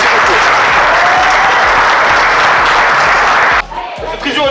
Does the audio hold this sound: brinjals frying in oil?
no